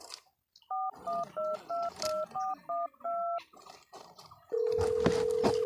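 A phone number is dialled as a quick run of about ten distinct two-tone beeps, crisp and close, followed by a steady continuous tone; faint background noise sits between the beeps.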